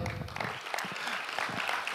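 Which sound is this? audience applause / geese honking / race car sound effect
audience applause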